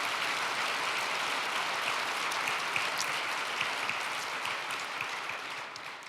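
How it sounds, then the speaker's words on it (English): Applause from a petroleum industry conference audience for its panelists, an even, steady patter of many hands clapping at moderate volume, sustained throughout with no voices over it. "how about a huge round of applause for our panelists today"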